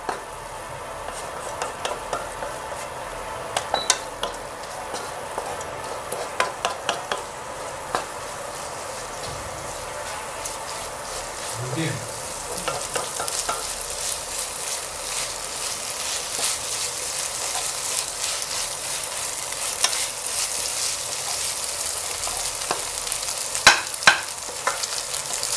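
Masala gravy of onions and ginger garlic paste is stirred in a frying pan for a cauliflower tomato curry, giving a steady sizzle with scraping stir strokes throughout. The sound is close, continuous and alone.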